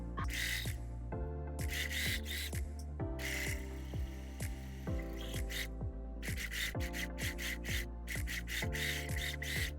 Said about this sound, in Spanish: Estiramos de los hilitos de atrás y comenzamos a coser.